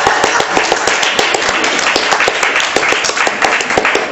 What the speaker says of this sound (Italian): Ti facciamo l'applauso.